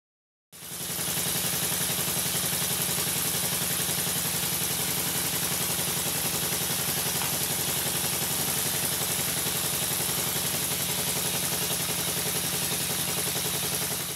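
A Stuart triple expansion model steam engine running in a workshop, starting abruptly and holding a steady, fast mechanical chuff and hiss for the full length, loud and close with no talk.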